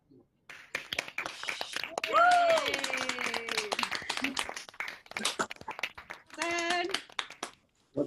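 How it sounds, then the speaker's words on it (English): A graduation audience on a video call unmutes to clap and cheer in scattered, overlapping bursts of hand claps, mixed with voices, whoops and a whistle-like tone. "I now warmly welcome you to unmute yourselves and cheer and clap each other."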